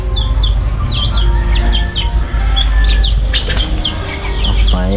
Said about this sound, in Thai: ออกไปไก่เอ้ยไก่ออกไปไก่